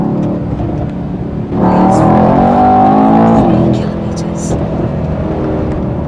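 A 2018 Mercedes-AMG E63 S 4MATIC+ accelerates hard, its exhaust swelling into a loud rising roar for a couple of seconds before settling back to a steady cabin drone, with talk around it.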